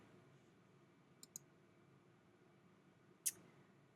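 A computer mouse on a website calendar admin page gives a quick double click and then one sharper single click, faint and close against quiet background hiss.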